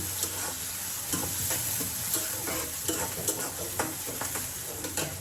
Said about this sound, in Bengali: রসুন দিয়ে বেশি করে রসুন দিয়ে ভাজি করতেছি